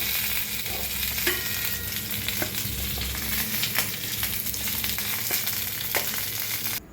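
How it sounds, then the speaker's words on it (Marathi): Fish frying crisp in a pan over low gas, a steady close sizzle and crackle with occasional sharper pops, no talking. "कमी गॅसवरच भाजा, छान असे क्रिस्पी उस्तर भाजते ते"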